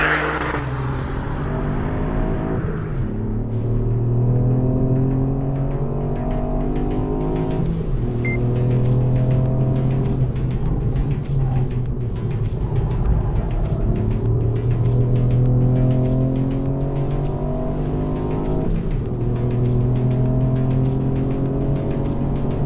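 A 285hp Mountune-tuned Ford Fiesta ST lapping a track, heard close from inside as the engine repeatedly climbs through the revs and drops at each gear change, loud and continuous with road rumble beneath.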